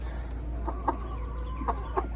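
A backyard hen gives soft, short clucks, several scattered over a couple of seconds, close by against a low steady hum.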